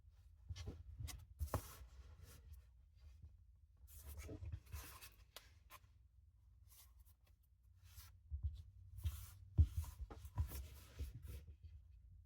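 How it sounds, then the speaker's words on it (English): Blade cutting through the pages of a handmade notebook, a series of close, dry scraping and slicing strokes in irregular bursts with quiet pauses between them. "I'll continue cutting the book like this."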